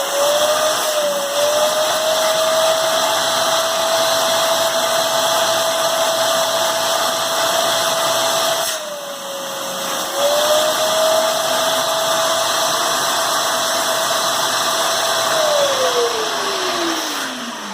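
A 2018 Ridgid NXT shop vacuum runs under a suction test, a loud, steady motor whine with a couple of brief dips in pitch before it winds down near the end.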